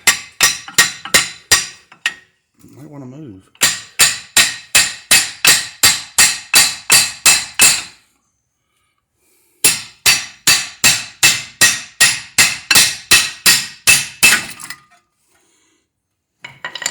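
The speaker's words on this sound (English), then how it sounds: "So you gotta beat it with a hammer right there." Rapid, sharp hammer blows ring out on a metal brake caliper of a Ford Explorer in fast bursts of a dozen or more strikes, separated by pauses; someone speaks briefly between bursts.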